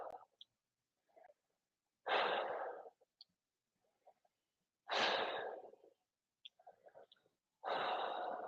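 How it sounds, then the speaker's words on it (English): Slow, deep breaths during a yoga warrior pose in a runners' routine, with three long, loud exhales spaced a few seconds apart and faint shorter breaths and rustles between them, close to the mic with no talking. "and we're breathing"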